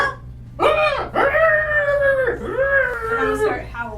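A human voice imitates a dog's howl, rising and falling in three long drawn-out wails over a low steady hum of background music, close and loud.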